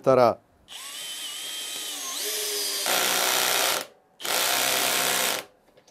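A Bosch GSB 18V-65 cordless drill drives an 8x80 mm screw in three loud, close bursts, its motor whine climbing in pitch, with a short voice before it starts.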